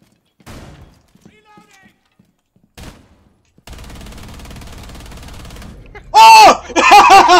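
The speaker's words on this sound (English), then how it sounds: "yeah, it's a firefight!" Gunfire in a Rainbow Six Siege firefight: after faint scattered noises and a steady background hum, loud bursts of rapid shots crack close up near the end.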